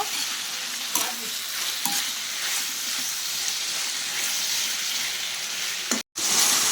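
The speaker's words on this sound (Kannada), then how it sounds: "ಇದು ಕ್ಯಾಪ್ಸಿಕಮ್ ಒಗ್ಗರಣೆ" Capsicum frying in a hot tempering, giving a steady close sizzle with occasional stirring clinks and scrapes, and a brief dropout near the end.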